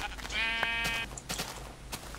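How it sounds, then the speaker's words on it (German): Sheep bleating in the video game Minecraft: one clear, wavering bleat up close, followed by a few short, faint clicks and ticks of game sound. "Hier das andere weiße Schaf und so. Und auch das Brownie-Schaf."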